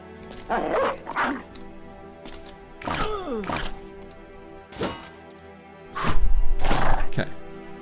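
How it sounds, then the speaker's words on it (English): Dog whimpers and yelps from a video game come in several short bursts, some sliding in pitch, with a louder cluster near the end against a faint background. "the sad dog noises"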